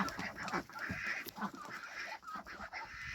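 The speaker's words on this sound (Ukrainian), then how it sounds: "Ось качки тут" Ducks clucking and chattering in a pen, mute swans and runner ducks calling over one another at close range in a steady, busy murmur.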